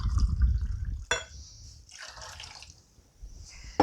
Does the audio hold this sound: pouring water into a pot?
yes